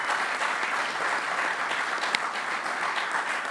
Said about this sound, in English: Let's give that round of applause for that.